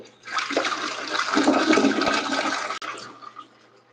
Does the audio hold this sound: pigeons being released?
no